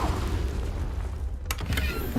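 A Confringo blasting spell goes off in Hogwarts Legacy, a single sharp burst with a brief crackling tail rising over steady low game ambience.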